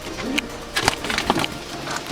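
Pigeons in a backyard loft coo softly in a few short, low bursts, with light rustling and scattered bird calls close by and no speech.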